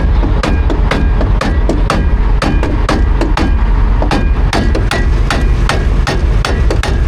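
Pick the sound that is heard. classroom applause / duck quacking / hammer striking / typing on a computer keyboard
hammer striking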